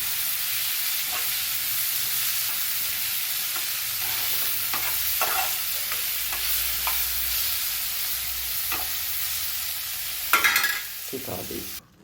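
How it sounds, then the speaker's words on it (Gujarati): Crushed cashew pieces roasting in a pan of gravy for a paneer dish, a continuous close sizzle with repeated scraping stirs and a louder clatter of the spoon near the end. "જે કાજુનો ભૂકો કર્યો છે એને પણ આપણે અંદર નાખી દઈશું. સાથે સાથે બધું શેકાઈ જાય."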